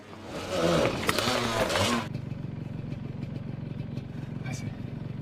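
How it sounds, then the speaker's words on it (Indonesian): A motorcycle roars loudly past a young man on a street for about two seconds as it nearly hits him, then a lower, steady engine-and-street background continues under a voice. "Saat di jalan akan menuju ke sekolah, Wenji hampir tertabrak motor."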